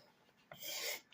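An A.G. Russell hawkbill knife blade scrapes across wood in a single close, rasping stroke lasting about half a second, quiet and alone.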